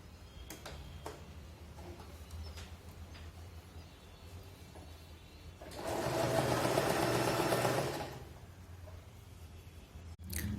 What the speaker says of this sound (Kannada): ಇಲ್ಲೊಂದು ಹೊಲಿಗೆ ಹಾಕಿ ಅದಾದಮೇಲೆ ನಾನು ಹೊಲಿಯೋದು ತೋರಿಸ್ತೀನಿ